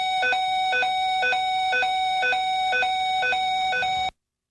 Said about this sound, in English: The chemical emergency warning alarm produces a high-low sound similar to a European police siren, followed by voice instructions.